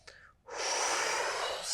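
A person holding plank pose in a slow yoga flow draws a short breath, then lets out a long, loud, airy exhale close by, steady and unvoiced.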